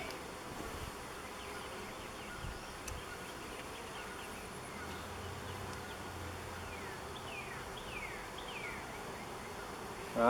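Honey bees crowd the middle frame of a five-frame hive during a split, giving a steady, close, dense buzz with brief individual bees zipping past and no talking.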